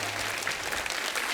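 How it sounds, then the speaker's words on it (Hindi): A studio audience applauds a guest on a Hindi television show, a dense, steady wash of clapping at an even level throughout, with no voices over it. "जोरदार तालियां रीना जी के लिए हो जाए"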